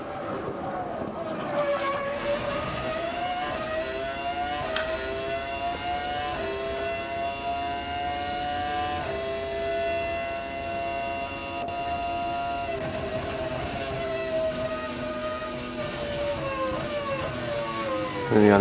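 A BMW Williams Formula 1 car's engine screams through Shanghai International Circuit during 2005 Chinese Grand Prix practice, a sustained high-pitched wail rising and easing as it backs off into turn 14 and powers on, with no talking.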